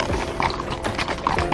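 Horse hooves clip-clop steadily on a ranch trail ride in Tuscany, a close, moderately loud run of repeated hoof strikes with some tack rattle, and no talk over them.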